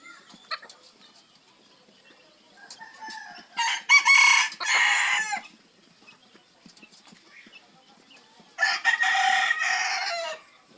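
A white Malaysian Serama cock, about six months old, crows twice in loud bursts, one near the start and another near the end, with quiet background sounds between.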